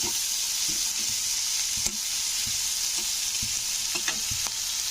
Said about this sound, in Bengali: চলো পেঁয়াজগুলোকে একটু লাল করে ভেজে নিই